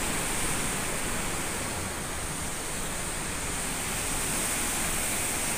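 Strong rushing water pours steadily from one open gate of the Lake Ranau dam into the Selabung River, a dense, unbroken roar, loud and constant with no voices.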